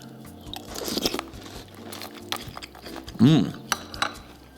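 Crunching and chewing of Tiny Toast strawberry cereal, close-up crisp bites and moist mastication with a clink of a spoon, several crunchy bursts in irregular rhythm, with faint talk nearby.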